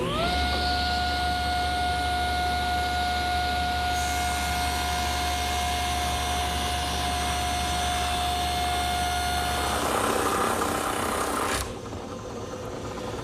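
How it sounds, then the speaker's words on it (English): A table saw rips a curved wooden rail to width against the fence, giving a loud, steady motor whine with strong tonal hum for about ten seconds before the cut ends and the blade spins down. "I can place that edge against my fence to rip the rail to the correct width"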